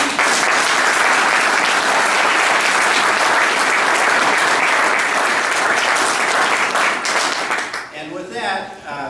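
Audience at an Iowa GOP fundraiser applauding the governor, a dense, sustained round of clapping from a crowd that carries on steadily for about eight seconds before thinning out at the end, with a voice speaking faintly underneath.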